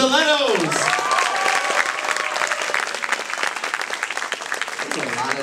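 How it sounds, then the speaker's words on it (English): Loud, dense applause from a live audience for the Stilettos, sustained clapping throughout with a voice speaking over the start and end. "Ladies and gentlemen, how about a round of applause for the Stilettos?"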